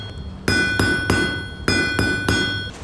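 Hot metal hammered at a forge: about six sharp, ringing metallic blows in an uneven rhythm, each leaving a bright resonant tone that decays quickly, close and loud with no talking.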